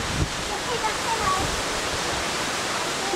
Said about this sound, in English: The wind is still pretty gusty.